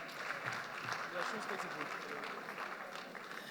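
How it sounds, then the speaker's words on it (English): Applause from an awards ceremony audience honoring a band, a steady dense wash of clapping that fills the room, with chatter and voices mixed in underneath. "So a round of applause for them, please."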